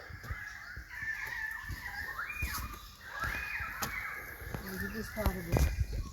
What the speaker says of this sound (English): we're hearing the currawongs